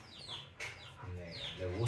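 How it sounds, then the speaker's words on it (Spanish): Chickens cluck outdoors in a yard, with several hens calling in short overlapping bursts while a person talks over them nearby. "Ahí tenemos un montón de gallinas allá afuera."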